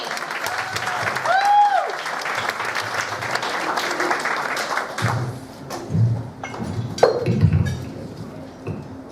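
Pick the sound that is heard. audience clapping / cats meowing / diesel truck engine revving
audience clapping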